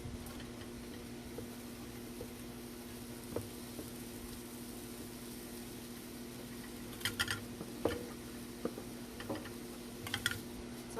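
Onion and bacon strips frying together in a pan, a soft steady sizzle with faint crackles and pops, fairly quiet and without talk.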